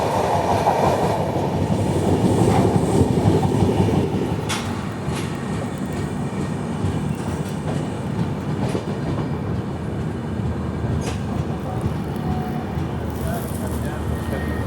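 Sachkhand Express, train 12716 from Amritsar to Nanded, heard from inside a coach as a loud continuous rumble with rail clatter and a few sharp wheel clicks, voices faintly under the din.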